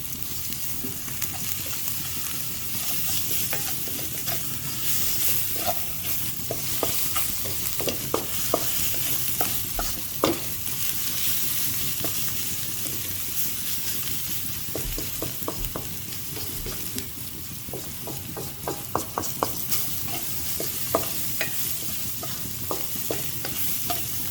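Black chickpea curry sautés and is stirred in a pan, a steady sizzle running throughout with frequent scraping clicks and taps of the spoon against the pan, loud and close, with no talking.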